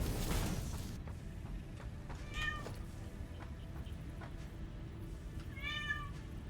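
A cat meows twice, each a short, clear, fairly close call a few seconds apart, over a steady low background hum with a thump at the start.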